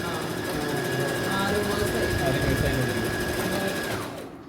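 Brother GS 3750 sewing machine stitching steadily for about four seconds, a fast mechanical needle rhythm that stops near the end, with a person talking over it.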